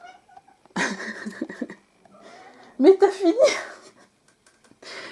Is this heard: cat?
yes